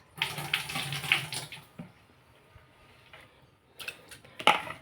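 Water is poured into a cooking pot with lentils and rice for sweet pongal, splashing in a short burst at first, then after a quiet pause a few more brief splashes and clinks close by.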